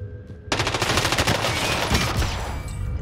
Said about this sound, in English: Is it a wall gun? No, it's an MP40.